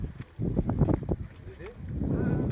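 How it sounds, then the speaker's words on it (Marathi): Wind gusts whoosh and rumble against the microphone high on an open hillside, steady and fairly loud, with a child and an adult talking over it. "वाऱ्याचा आवाज. पप्पा बघा कसं गर गर यायला लागलाय."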